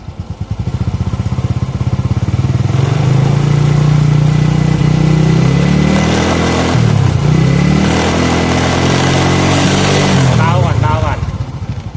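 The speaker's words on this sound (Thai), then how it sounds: "อลองเร่งเครื่องดิครับ" A motorcycle engine, just fitted with a new battery, revs up close by, its pitch climbing and holding, dipping briefly and rising again, then falling back toward idle.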